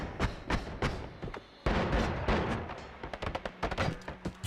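Rapid shotgun bolt blasts and impacts from the roguelike video game Noita, a dense burst of repeated loud thumping shots in quick succession, continuous layered gunfire-like bangs throughout.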